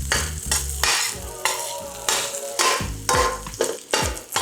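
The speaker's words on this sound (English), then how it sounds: "Gonna add a little bit of olive oil here. We're just gonna give that a good mix" Chorizo stirred with olive oil in a paella pan, a close sizzle cut by repeated rhythmic scrapes and knocks of the spoon against the pan, about two strokes per second, with no voices.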